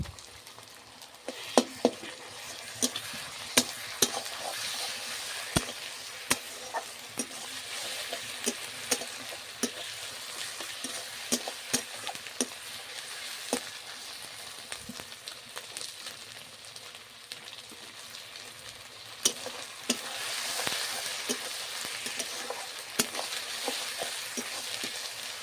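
Garlic paste added to browned onions in hot oil for a desi chicken curry, a steady close sizzle with frequent sharp clicks and pops of a spoon stirring against the pan, no voices.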